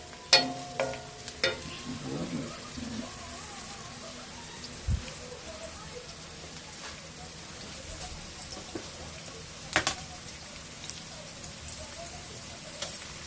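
Ginger-garlic paste added to onions and green chillies frying in a pan for methi chicken, giving a faint, steady sizzle with occasional sharp clinks and scrapes of stirring close by.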